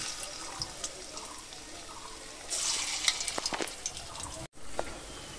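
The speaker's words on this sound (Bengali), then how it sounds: "আর অল্প ছিল সেটাও আমি ভেজে নিচ্ছি।" Malabar spinach fritters (bora) sizzle in hot oil with a steady, hissing crackle that swells louder midway, close and continuous with a brief dropout.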